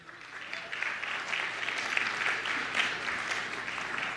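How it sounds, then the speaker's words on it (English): Guests at a wedding reception applaud for the best man, a soft, steady patter of many hands clapping at moderate distance, sustained evenly for several seconds. "Let's give another round of applause for the best man, Michael."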